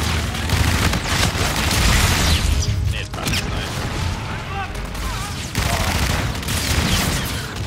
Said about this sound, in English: the weapons are like super futuristic though. They're not even shooting bullets.